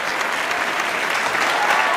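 Loud, dense burst of crowd applause, set off by a DJ's applause button, filling two seconds as a continuous wash of clapping.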